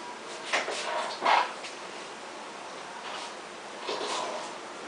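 A dog hunting an opossum gives a few short barks and whimpers, faint and scattered over a steady background hiss.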